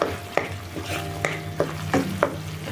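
Paneer and vegetables being stir-fried in a pan: several sharp spatula scrapes and knocks at an uneven rhythm over a continuous close sizzle, with no talking.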